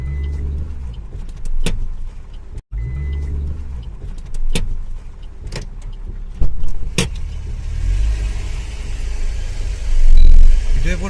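A car engine hums low and steady while the vehicle reverses on a sloped spot, with sharp clicks and knocks breaking through and voices talking over it.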